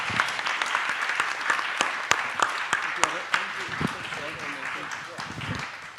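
Conference audience at an arbitration panel session in Hong Kong applauding steadily, dense clapping with sharper individual claps standing out, slowly tapering near the end.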